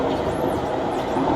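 Steady rumbling roar of a Singapore metro train running, a continuous close hum without breaks.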